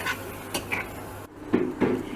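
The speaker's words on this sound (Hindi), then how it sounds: "मज़ीद बस 1 से 2 मिनट हम इसे और भून लेंगे।" Meat for beef and mutton haleem with yogurt being fried and stirred in a pot: a few distinct metal spoon scrapes and clinks against the pot over a low sizzling background, close and fairly loud.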